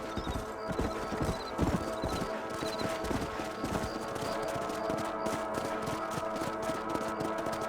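Horse hooves clip-clop at a steady riding rhythm in a Western ranch video game, with an occasional whinny and faint game music and ambience underneath.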